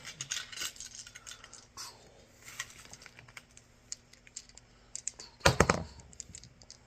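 Recycled plastic dice rattle and click as they are unpacked and handled, scattered light taps and clatters with a louder tumble of dice near the end, close up and with no talk.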